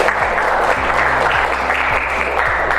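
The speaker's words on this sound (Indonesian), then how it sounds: "beri tepuk tangan untuk kalian semua." A classroom of students applauds together in a steady, dense burst of clapping that fills the room, loud and close, with a faint low hum underneath and no clear talk.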